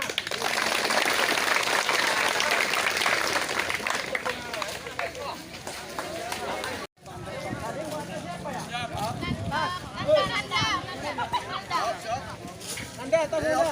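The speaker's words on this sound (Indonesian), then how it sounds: "Baik, terima kasih, tepuk tangan." Participants at a Paskibra flag-squad selection in Aceh Tamiang clap as a crowd in a hall, heavy in the first half, then thinning into scattered claps mixed with chatter and movement.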